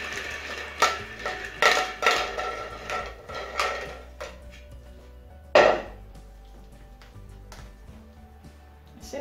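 Plastic gachapon capsules shaken and tumbled together for a draw, giving a run of hollow clattering bursts over the first few seconds, then one sharp knock and a few quieter rattles nearby.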